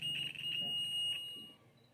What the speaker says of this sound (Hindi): क्योंकि ये बज़र दे रहा है।